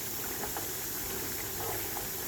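Mutton chukka fry simmers in a pan as its water boils down, giving a steady, faint bubbling and hiss with soft pops throughout and no talking.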